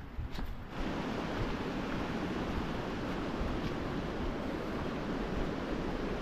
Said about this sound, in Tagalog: Pero malakas ang agos.